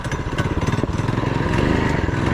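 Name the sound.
6.6HP 224cc swapped mini quad engine accelerating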